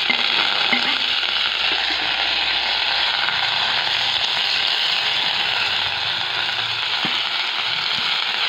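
Mustard seeds and oil sizzle steadily in a pan on the stove while a mullangi palya is being made, a continuous bright crackling hiss with occasional louder pops, close and without talk.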